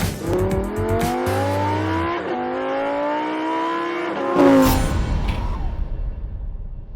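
A Dodge Durango Hellcat, Lamborghini Urus and Jeep Trackhawk launch in a drag race, engines roaring loud and close and rising in pitch through the gears, then a sharp burst as they pass before the noise fades away.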